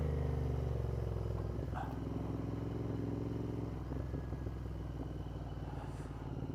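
A Royal Enfield motorcycle rides along gravel roads near Austrian villages, a steady loud low engine thrum with faint crunching and rattling over the rough surface.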